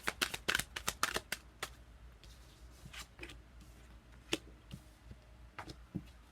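Tarot cards shuffled by hand during a love reading, a run of quick, crisp riffling snaps clustered early, then sparser single flicks and taps, fairly quiet and close with no talking.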